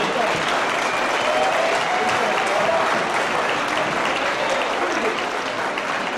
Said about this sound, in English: Let's give them a round of applause if you would